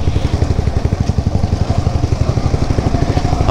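A motorcycle engine putters with a fast, steady low pulsing throb while riding on a highway with another bike and a scooter nearby, loud and close throughout.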